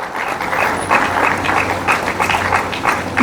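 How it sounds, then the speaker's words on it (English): A round of applause from the audience at a university colloquium, a continuous bed of many hands clapping at an even level, with a low hum running underneath. "Please, a round of applause."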